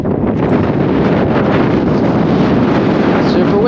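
Strong wind buffets the microphone on a fishing boat in cold, choppy conditions, a loud continuous rumbling roar that persists for the whole stretch, with a voice faintly under it.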